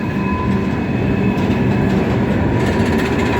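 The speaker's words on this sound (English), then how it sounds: "The rails are singing." An SD38-2 locomotive pulling out, loud and close, with a steady rumble of rolling wheels and a high metallic singing tone ringing from the rails throughout.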